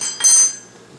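A blender lid being taken off while making applesauce with kids: one short clinking knock against a quiet room hum, with no talk.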